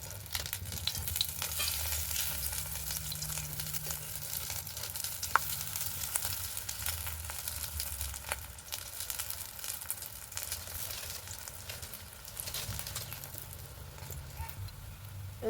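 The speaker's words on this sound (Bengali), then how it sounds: "দেখুন তেলে দেওয়ার সঙ্গে সঙ্গে কিন্তু ভাজা হয়ে যাচ্ছে।" Besan pieces frying in hot oil outdoors in strong wind, steady crackling sizzle with occasional stirring clicks over a low wind rumble, close and even throughout.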